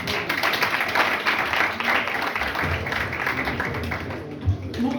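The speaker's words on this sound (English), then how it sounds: "applause" Dense clapping from a church audience, a sustained round of applause that is moderately loud and continuous, with a few low thumps mixed in.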